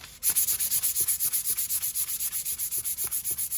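A 1000-grit sharpening stone being graded on a Tormek sharpener: a faint, even rasping scrape pulsing in a quick regular rhythm, about six strokes per second, close up with no talk.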